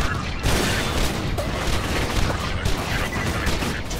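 Rapid bursts of gunfire and booming impacts in Borderlands 2, dense and continuous, crackling at close range with faint voices underneath.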